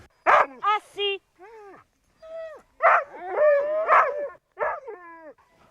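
Sled dogs at the start of a dog race yelp, whimper and bark in short, excited bursts close by, the cries rising and falling in a whining, howling chorus.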